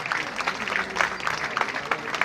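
An audience applauds in welcome at a live public event in Bhilwara, with dense, steady clapping from many hands that rises and falls slightly over a couple of seconds.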